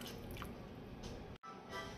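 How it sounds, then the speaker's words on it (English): Thick melted butter mixture pours into a turkey cavity with soft, wet squishing and glugging, broken by a brief silent gap near the end. "take your mixture and pour it in the cavity of the turkey"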